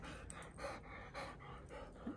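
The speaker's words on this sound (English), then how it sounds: "That's Guy breathing heavy." A dog pants heavily at home after returning from an RV trip, quick soft rhythmic breaths close by and faint, with small vocal squeaks near the end.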